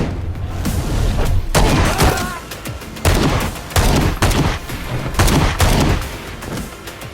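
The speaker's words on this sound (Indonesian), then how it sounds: "si pria malah ditembak dari belakang oleh anak buah Javier sampai terjadilah kekacauan." An action movie shootout erupts in loud, close bursts of gunfire: clustered rapid shots and booming blasts repeat in waves, with short gaps between the volleys.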